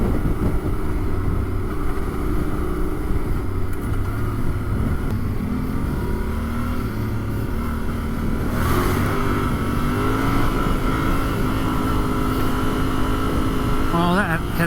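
A Yamaha Tenere Rallye motorcycle engine drones steadily while riding a muddy outback track in South Australia, with engine tone shifting through gear changes and constant wind and road noise throughout.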